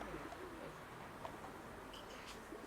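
Faint pigeons cooing in soft repeated calls against a steady background hiss, with no voices present.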